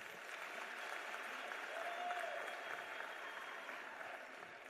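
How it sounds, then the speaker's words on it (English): An audience at a school principals and governing bodies session applauds steadily for several seconds, with dense, even clapping that swells slightly and then tapers. "Can we give her a round of applause, please?"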